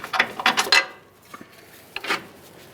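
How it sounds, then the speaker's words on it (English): Ratchet clicking on upper control arm mounting bolts of a 2015-2020 Ford F-150, a quick burst of close metallic clicks followed by a pause and a second short run of ratcheting. "Start removing those mounting bolts."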